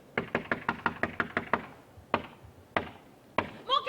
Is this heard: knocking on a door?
yes